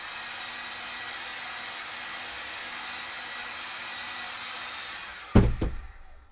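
A heat gun blows a continuous steady hiss of hot air onto shoe armor being shaped for a Sisters of Battle cosplay. It runs alone for about five seconds, then two sharp knocks ring out as it cuts off.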